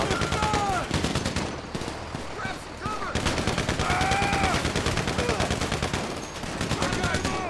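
Rapid bursts of automatic gunfire crackle in a GTA 5 Online heist shootout, with repeated close volleys, brief pauses and whistling, sweeping game effects in between.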